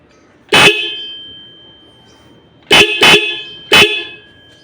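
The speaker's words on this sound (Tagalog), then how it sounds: "Testing natin. Busina natin. Gaano kalakas to." An aftermarket relay horn fitted to a Honda Beat motorcycle blares in four loud, close honks: one single blast, then a quick double, then a final short toot, with quiet gaps between.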